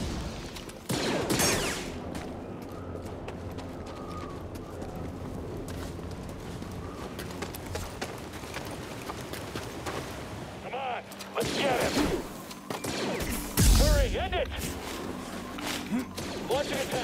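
Blaster fire from a squad in Star Wars Jedi: Fallen Order, loud bursts of shots near the start and again in the later half amid game effects and voices speaking.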